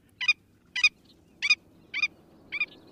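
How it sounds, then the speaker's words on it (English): A Willet, a big boldly marked sandpiper of sandy beaches, gives five clear, sharp yapping calls at an even, steady rhythm, close and loud, over a faint low rumble. "The nervous yapping of that big, boldly marked sandpiper called the Willet is a characteristic sound of sandy beaches"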